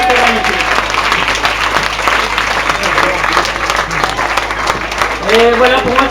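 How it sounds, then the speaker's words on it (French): Audience applauding at the closing of a scout clan camp, steady dense clapping throughout with crowd noise and a voice speaking over it. "on peut encore une fois bien les applaudir aussi"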